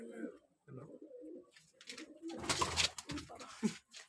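Soft pigeon cooing comes from a village coop where pigeons are nesting with chicks, heard in short low bursts amid faint rustling and scattered background noise.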